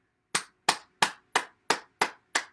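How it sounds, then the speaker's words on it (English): Seven sharp hand claps at a slow, even pace during a morning bouncing exercise session, each one crisp and close with a short decay, with silence between them. "Let's clap and stimulate our heart."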